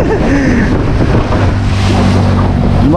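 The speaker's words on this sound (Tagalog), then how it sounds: "Oh, laki ng alon." Big ocean waves wash and churn around a small fishing boat, with strong wind buffeting the microphone and a faint motor hum underneath, loud and continuous.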